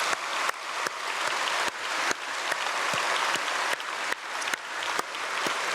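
Applause from a church congregation welcoming visiting missionaries at a dawn prayer service, a steady wash of many hands clapping with occasional sharper claps standing out, no voices.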